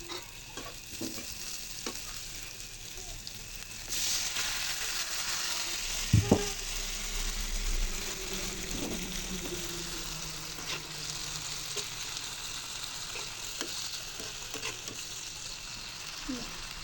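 Onions and green chillies frying in a pan, with a steady close sizzle and occasional scraping stirs throughout.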